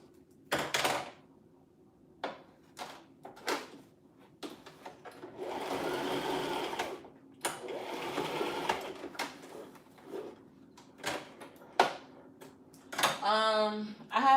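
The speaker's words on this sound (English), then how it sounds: "I never had a problem with a sewing machine until I got this one." A sewing machine stitches in short bursts and longer runs, whirring on and off, with faint voices in the background between stretches.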